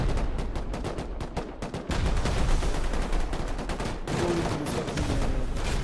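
Rapid gunfire in the video game Rust, dense bursts of automatic shots crackling nonstop and loud, layered and overlapping as if from more than one weapon.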